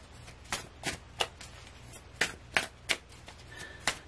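Tarot cards are shuffled by hand, giving a series of crisp riffling bursts in an uneven rhythm, close and distinct against a quiet low hum.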